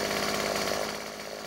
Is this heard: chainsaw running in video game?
yes